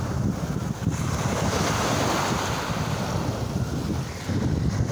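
Caribbean Sea waves washing and surging under steady wind on open water, a loud, continuous roar with heavy wind buffeting on the microphone and no voices.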